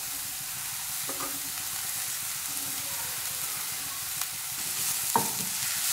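Shredded cabbage stir-fried in a pan on high flame for a vegetable momo filling gives a steady, close sizzle throughout, broken by a few soft scraping knocks from stirring.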